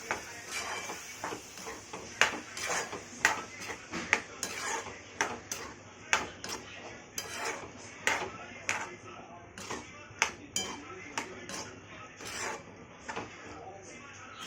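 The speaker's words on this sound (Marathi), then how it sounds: "आता मी टाकत आहे छोटे काबुली" Small kabuli chickpeas are added to a pan with onion, chili, tomato and spices for a chickpea vegetable dish, with repeated close clinks and scrapes of a metal spoon against the pan in an irregular rhythm, under intermittent talk.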